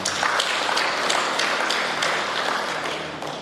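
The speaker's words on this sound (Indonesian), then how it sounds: "Tepuk tangan untuk semua." An audience claps at an evening hospitality gathering hosted by the Banggai Laut local government with the district police chief, a brief burst of scattered, fairly close hand claps that thins out over a few seconds.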